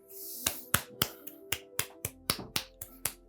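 Sharp hand claps, about ten of them, in an irregular sequence of crisp close slaps with short gaps, heard alone with no talking.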